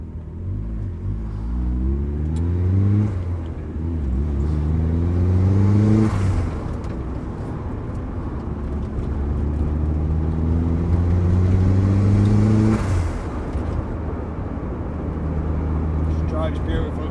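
A turbocharged Mazda MX-5 Miata running 25 psi of boost and about 280 hp revs hard while driving, its engine note climbing through the gears in repeated rising sweeps with a steady loud rumble throughout.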